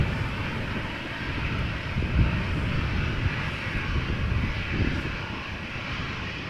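The jet engines of a 24-year-old KLM Embraer E190 airliner at Amsterdam Schiphol give a steady, broad roar heard from some distance, unbroken and with no voices.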